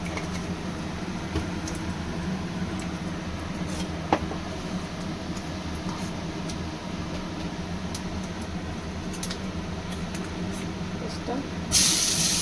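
Nigella seeds (kalo jeera) sizzle in hot oil in a kitchen pan, a steady hissing crackle throughout with a louder burst near the end, a voice speaking over it.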